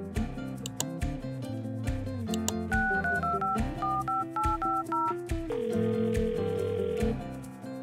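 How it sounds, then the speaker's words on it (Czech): Battery-powered toy mobile phone with Czech speech plays an electronic ringtone for a new message, a steady run of beeping tones and melody, fairly loud and alone. "Co to zvoní? Přišla ti zpráva. Přišla ti nová zpráva."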